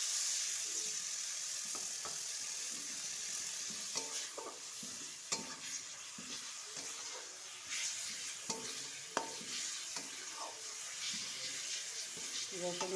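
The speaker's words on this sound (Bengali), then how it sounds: "রসুন বাটা দিয়ে আবার একটু ভাজা ভাজা করব।" Garlic paste sizzles in hot ghee in a pan, a continuous soft frying hiss broken by occasional scrapes and taps of a stirring spoon, with a voice faintly in the background.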